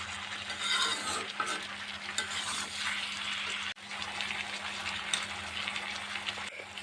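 Pumpkin and potato curry cooks in a covered pan over low heat, giving off a quiet, continuous sizzle and bubbling hiss that carries on evenly with no voices.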